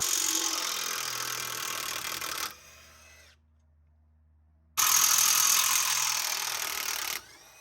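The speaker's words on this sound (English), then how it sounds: "there's two caliper bracket bolts here and here that I'm going to take off" A Milwaukee stubby cordless impact gun spins off 17 mm rear brake caliper bracket bolts on a Lexus GX, two loud sustained whirring, rattling bursts of a couple of seconds each, separated by a near-silent pause, close up and without talk.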